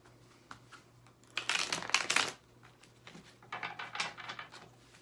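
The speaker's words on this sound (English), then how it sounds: "It isn't always feasible, but I always do shuffle." Large tarot cards are shuffled by hand, two bursts of crisp riffling and papery slapping, the first short and loud, the second longer and a little softer, close up with quiet pauses around them.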